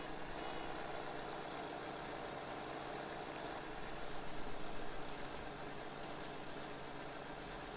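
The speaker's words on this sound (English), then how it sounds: "This tractor is annoying as hell." A tractor engine idles in a farming simulator game, a faint, steady mechanical drone that swells briefly midway before settling back, with no voices over it.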